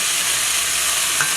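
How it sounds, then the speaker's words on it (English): Chopped tomatoes and grated green mango are stirred in a hot pot in a Trinidad kitchen, a brief continuous hissing sizzle with soft scraping close by. "We give it a stir and cook it for a couple of minutes."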